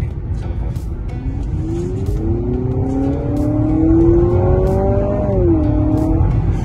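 A Honda CR-V RS Hybrid with an e-CVT accelerates in sport mode, and its synthetic engine note rises in stepped pitch sweeps that mimic gear shifts, heard steadily from inside the cabin over a low road rumble.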